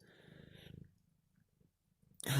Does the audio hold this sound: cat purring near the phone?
yes